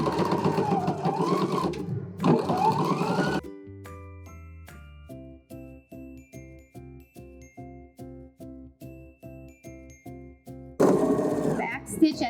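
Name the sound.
sewing machine stitching a wine tote seam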